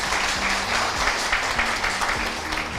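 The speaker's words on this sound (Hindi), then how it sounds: "उसके लिए एक जोरदार तालियां हो सकता है" An audience claps steadily and loudly throughout, dense applause with no break.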